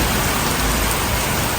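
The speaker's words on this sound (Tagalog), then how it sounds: "It's bucketing in Brisbane this morning." Heavy rain pours down steadily in Brisbane, a dense, loud, continuous hiss of water drumming on surfaces close by, with no talking over it.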